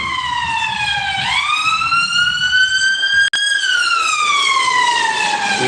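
Ambulance siren in Nigeria wails loudly and steadily in long rising and falling sweeps with bright harmonics, briefly broken by a sharp click, no talk over it.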